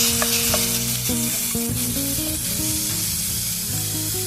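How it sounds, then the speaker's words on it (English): Onion and minced garlic sauté in a pan with a loud, steady hiss and sizzle, close up, while faint tonal music plays in the background. "Next, you can add in your minced garlic. Saute that for 1 minute."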